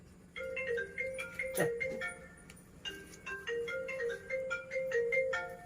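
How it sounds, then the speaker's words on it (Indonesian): A phone ringtone plays a repeating melodic tune of bright electronic tones, moderately quiet and heard alone with a faint background hum. "Ayah ada teleponnya, angkat."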